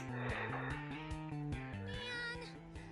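A cat meows repeatedly in the Prinny: Can I Really Be the Hero? video game, its drawn-out cries blending with a stepping game melody that continues throughout.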